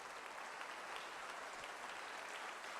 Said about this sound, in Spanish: Y déle ese aplauso a Él si usted se lo va a aplaudir.